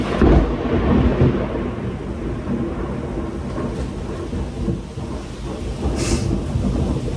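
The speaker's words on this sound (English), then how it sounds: "there's loud thunder in the middle of it, because this is crazy" Loud, rumbling thunder rolls through a heavy, windy thunderstorm with steady rain, a continuous deep roar filling the whole stretch near and powerful.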